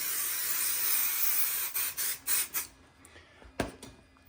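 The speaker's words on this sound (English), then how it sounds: "then I'll just spray a second coat here" Steady aerosol hiss from a can of spray adhesive, running continuously for a couple of seconds, then several short bursts of spraying close by.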